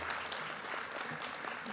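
Brief round of applause at a student awards ceremony, many hands clapping steadily at a moderate distance, fairly soft and uniform with no talking.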